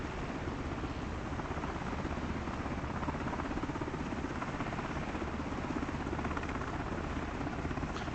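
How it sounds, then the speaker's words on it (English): A helicopter drones close and loud in a continuous, even rotor wash that stays steady throughout with no other sound standing out. "you guys can hear me over the helicopter"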